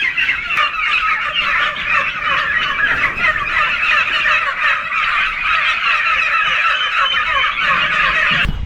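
A dense chorus of gobbling turkeys and clucking chickens on a poultry farm in Tamil Nadu, loud and continuous, as if standing among a large flock.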